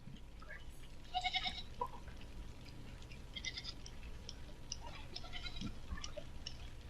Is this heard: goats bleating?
yes